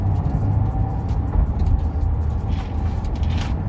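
A Ford Mustang Bullitt with Eibach sway bars is driven on a street, a steady low engine rumble and road noise from inside the car, fairly loud and even with slight swells, no talking.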